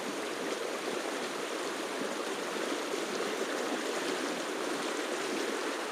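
A small stream flows steadily at a lakeside pike-fishing spot in hard frost, its broadband rush and trickle close and continuous, with no voices.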